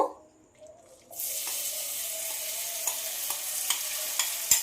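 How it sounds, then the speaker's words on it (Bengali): A puffed-rice snack mixture hits hot white oil in a wok and breaks into a steady close sizzle after a brief quiet start, with a few light stirring scrapes. "তেলটা গরম হয়ে গেছে এবার মিশ্রণটা দিয়ে দেব"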